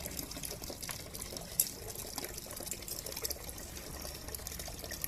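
Water runs from an opened tap in a steady, faint trickle with some light splashing, continuous throughout.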